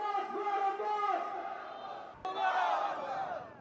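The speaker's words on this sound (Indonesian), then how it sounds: "Teriakan "Bebaskan Palestina" menggema di antara kerumunan" A protest crowd in Malaysia shouting "Free Palestine" in unison, a loud, sustained chorus of many voices chanting together, rising again after a brief break.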